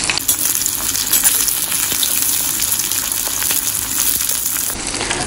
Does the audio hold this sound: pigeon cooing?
no